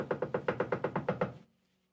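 Loud knocking on a closed, locked door: a rapid, even series of about ten hard knocks over a second and a half, close and clear, then silence.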